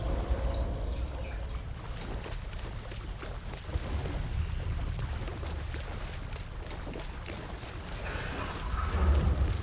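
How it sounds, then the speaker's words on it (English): Rushing, churning water in Alan Wake II, a continuous rough wash of flowing water with low rumble, steady and moderately loud throughout. "The water here is aggressive."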